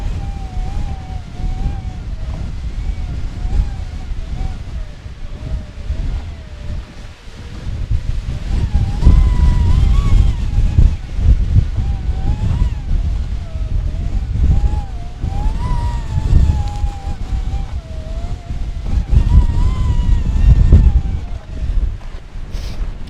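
Strong gusty wind in Rocky Mountain National Park, gusting up to 35 miles an hour, buffets the microphone in loud, uneven surges, with a faint tonal whine drifting underneath.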